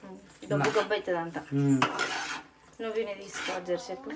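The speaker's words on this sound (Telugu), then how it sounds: "నేను కలిపా మరి కాసేపు కలుపుతాను." A spoon stirs food in a metal cooking pot in a village home kitchen, giving close, continuous metallic scraping and clinking with squeaky tonal rubs against the pot.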